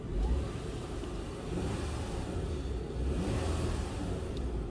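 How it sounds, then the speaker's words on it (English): An engine is revved repeatedly, and the rumble rises and falls gently under a steady, mid-level drone with no talk over it. "as I rev the engine"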